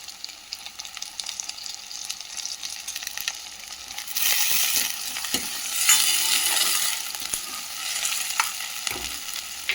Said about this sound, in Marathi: आता थोडा कांदा टाकून घेऊ. कांदा थोडा ब्राऊन झाला तर त्याच्यामध्ये टोमॅटो टाकून घेऊ.